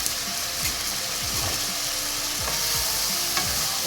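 Fried vermicelli tumbling into a hot pan and being stirred, with a steady sizzle under repeated scraping and clinking strokes from a spoon, close and moderately loud, no talking.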